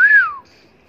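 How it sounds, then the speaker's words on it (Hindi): A person whistles a single short signal, one clear rising-then-falling tone lasting under half a second, close and loud before fading into near silence. "तो वो सीटी बजाता है अपने स्टाइल में"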